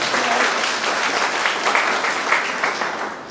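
An audience at a Hindi comic poetry performance by Dr. Surendra Dubey claps in steady, dense applause for a few seconds, fading slightly at the end.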